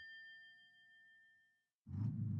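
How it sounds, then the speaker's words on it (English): A bus stop-request bell gives a single clear ding that rings and fades for over a second, then a loud low rumble of the bus starts up abruptly. "I press the bell to get off."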